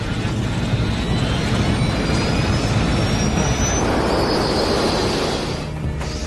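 Airliner engines spooling to maximum thrust during a go-around, a loud continuous broadband roar with a rising whine that holds steady for several seconds before easing slightly at the end.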